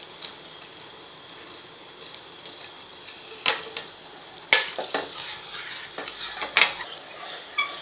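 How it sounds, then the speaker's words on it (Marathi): Sugar syrup for lemon juice being stirred in a pot on the stove, a soft steady sizzle and bubbling with spoon scrapes and sharp clinks against the metal pot that come more often toward the end. No one speaks. "पाक बनवताना असं सतत ढवळत राहायचं आहे, नाहीतर खाली साखर लागण्याची शक्यता असते भांड्याला"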